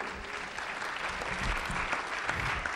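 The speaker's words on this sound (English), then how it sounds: "Give un fuerte aplauso," A church congregation at a bilingual MLK celebration service applauds, many hands clapping in a full, steady roar with scattered louder claps.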